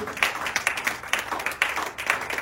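A church congregation applauds the Lord together, a steady, fairly close round of rhythmic clapping from many hands with no talk over it.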